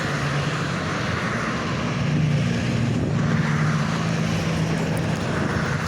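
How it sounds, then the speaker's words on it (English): An SUV rushes past on a road, giving a steady, loud broadband roar of engine and tyre noise that swells slightly mid-pass and carries on without a break, with no talking. "That was an SUV that flew by that sounded like that."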